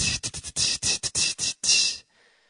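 A beatboxer's voice imitates an open hi-hat with a run of bright, sustained hissing bursts in quick rhythm, ending on one longer open hiss that cuts off, close and fairly loud.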